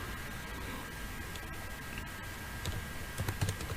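Faint keyboard typing at a computer, scattered soft key clicks over a low hiss, growing a bit busier toward the end with no talk.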